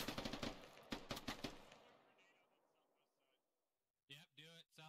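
Gunfire in the tactical shooter video game Squad: a rapid burst of automatic shots, loud and close, trails off into a fading echo and near silence. Voices then speak briefly at the end.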